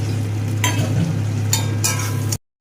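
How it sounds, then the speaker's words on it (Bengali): Nigella seeds and whole green chillies drop into hot oil left from frying prawns, sizzling in a steady close hiss with a few sharper spits and crackles, no voices. "এই চিংড়ি মাছ ভাজা তেলের মধ্যেই দিয়ে দেব কালো জিরে ও গোটা কাঁচা লঙ্কা"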